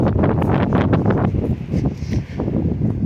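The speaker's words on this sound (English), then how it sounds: "ooh, it's windy" Strong gusts buffet the microphone in a loud, rumbling roar, rising and falling over a few seconds, with a faint rustle behind, outdoors on a Central Texas homestead.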